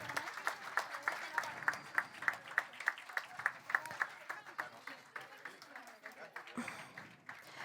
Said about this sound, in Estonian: Ja teeme aplausi ikka ka meie imeliste juhendajad, kes teil aitasid kampaaniast osa võtta.